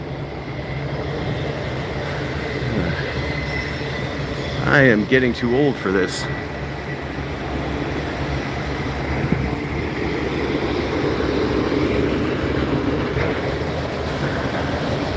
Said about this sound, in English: It's an interesting climb when there's a train behind you.